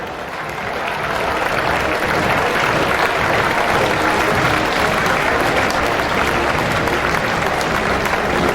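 Dense, steady applause from a large outdoor crowd at a band festival in Cortina d'Ampezzo, honoring rescue workers; the clapping swells in over the first second, then holds loud and continuous throughout.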